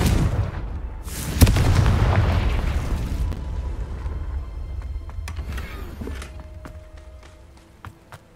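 A magic blast spell detonates against rocks in a Hogwarts Legacy game, a sharp boom with a long rumbling decay and debris, followed by a few lighter clicks and effects.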